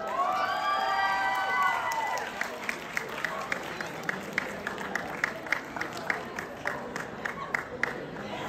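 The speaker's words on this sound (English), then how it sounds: "big round of applause for Leah" A crowd at a college signing Decision Day event for a Hawkeye recruit cheers and shouts loudly at first, then settles into steady, fairly close applause with sharp individual claps standing out.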